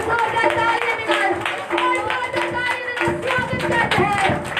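Loud rhythmic clapping from a congregation at a Sunday prayer meeting, crisp, regular beats that carry on throughout while a leader's amplified voice calls out over them.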